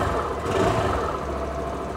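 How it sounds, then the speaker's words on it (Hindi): A 2024 Suzuki Access 125 scooter engine idles steadily nearby, with a low, even exhaust putter and no talking. "इंजन साउंड सुनते हैं, एग्जॉस्ट नोट सुनते हैं।"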